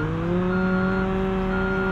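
A grader in Construction Simulator 3 drones steadily as it reverses, its engine holding a smooth, even hum with no speech over it.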